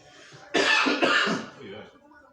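A man coughs hard in two loud, rasping bursts, then trails off into quieter throat noise, the fit coming from smoking weed and an asthma flare-up.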